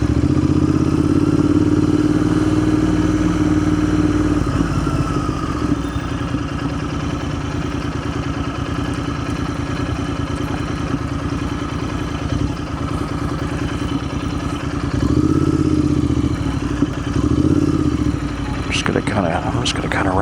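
A motorcycle rides through downtown Montpelier, Vermont, its steady engine drone loud and continuous with a couple of swells, clattering and a brief rattle near the end.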